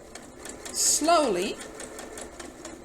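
A sewing machine stitches a flat felled seam along a folded edge, a soft brief whir under a quiet voice speaking close by.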